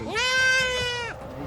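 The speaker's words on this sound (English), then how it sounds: "a bit upset by the little sounds that the goat was making" A small goat gives one clear, nasal bleat, loud and close, rising and holding for about a second before cutting off, with faint background noise after.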